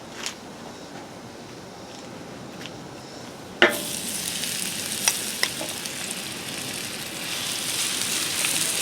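Diced green tomatoes hit hot oil on a Blackstone griddle and set off a sudden, loud crackling sizzle partway through, after a quiet start, with a few sharp pops as the frying continues.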